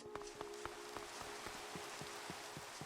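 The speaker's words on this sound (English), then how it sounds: "Who ordered the rain?" Minecraft rain, a faint even patter of falling drops with regular soft ticks at a steady beat, heard alone without talk.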